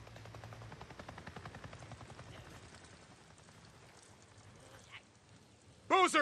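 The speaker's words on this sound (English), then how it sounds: "I just saw a goddamn chopper! A chopper? What are you talking about? A Nero chopper! It just buzzed right over me." A helicopter in the video game Days Gone passes overhead with a steady rotor thump that fades gradually, before a sudden loud burst of other game noise at the end.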